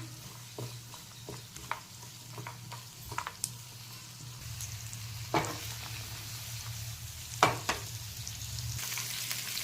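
Tomatoes and cashews simmer in an oil-coated pan as part of a homestyle Gujarati sabzi, giving a steady soft sizzle with occasional crackles and pops and scattered light stirring taps throughout, with no voices.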